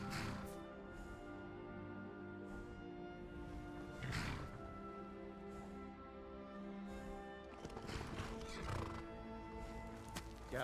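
A horse in the Skyrim video game whinnies and snorts repeatedly while its hooves clop steadily, all moderately close and clear.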